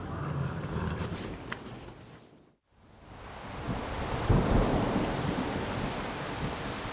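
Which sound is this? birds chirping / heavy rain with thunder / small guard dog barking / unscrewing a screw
heavy rain with thunder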